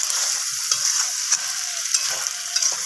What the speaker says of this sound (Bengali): তো আবারও খুব ভালোভাবে আমি কষিয়ে নিচ্ছি।